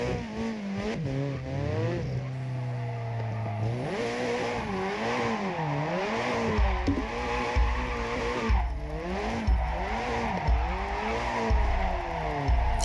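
Car drifting with screeching tire squeal in a racing video game, engine pitch rising and falling through long sustained slides and repeated revs, loud and continuous throughout without talk.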